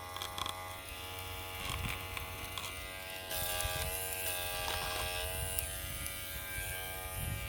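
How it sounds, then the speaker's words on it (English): An electric hair clipper with freshly diamond-stone sharpened and oiled blades runs steadily near the microphone, giving a continuous buzzing hum that brightens slightly midway, with no talking. "you will hear the smooth sounding of this clipper"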